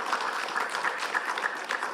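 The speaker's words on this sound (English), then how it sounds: "a big hand of applause for our panelists this morning" An audience at a Pacific Island Nations conference session applauds its panelists, a thick, continuous wash of clapping from many hands held at a steady, fairly loud level throughout.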